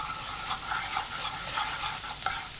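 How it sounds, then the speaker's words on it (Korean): Minced garlic stir-fries in a tablespoon of cooking oil in a pan over high heat, giving a steady, close sizzle with faint scraping stirs throughout. "팬에 식용유 1큰술, 다진 마늘 반큰술 넣고 센 불로 볶습니다."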